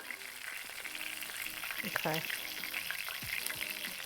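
Dredged oysters shallow frying in hot oil, a dense, steady sizzle and crackle close up, with a brief word spoken over it.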